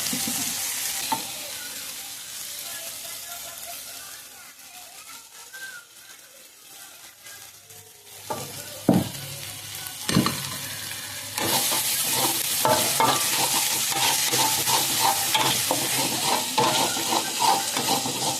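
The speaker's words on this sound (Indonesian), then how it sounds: "Jadi ini langsung aja udah diulek langsung aku tumis lagi pakai minyak." Ground spice paste stir-fried in oil in a pan, a steady broadband sizzle with repeated scraping stirs; the sizzle quiets midway, then returns louder and denser after fresh oil is added, with no talking.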